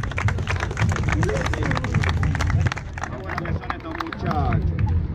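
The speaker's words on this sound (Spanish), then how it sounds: "¡Aplausos para este loco, muchachos!" Crowd at a Spanish-language freestyle rap battle claps and cheers loudly throughout, dense hand-clapping mixed with shouts and babble under a few raised voices.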